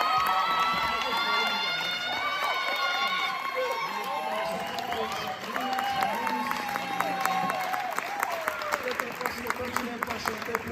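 A church congregation at a Sunday service clapping in rhythm with steady, dense applause while singing voices carry over it.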